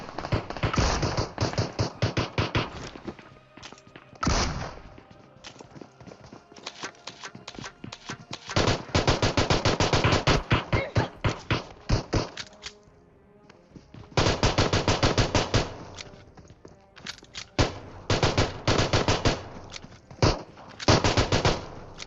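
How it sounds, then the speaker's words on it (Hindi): Gunfire in the BGMI battle royale game, including pistol shots, comes in rapid bursts of sharp cracks separated by brief pauses, loud and close, with no talk over it. "फिलहाल यहाँ पे पिस्टल चलने वाली है"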